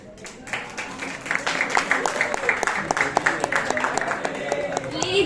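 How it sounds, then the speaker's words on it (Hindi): A live audience claps to welcome a singer at a public evening music performance, with dense, crackling applause that swells after a quieter start and holds steady, heard fairly close. "प्लीज जोरदार तालियों से उनका स्वागत करिए"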